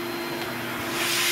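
A Rikon 1.5 horsepower dust extractor power unit runs with a steady, loud whooshing roar and a constant motor hum, close up and alone, rising slightly in intensity toward the end.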